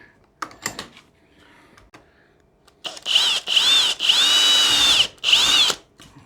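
A power drill with a stepper bit cutting during an off-grid solar build, a few clicks and taps first, then several loud whirring bursts of varying length with short gaps between them.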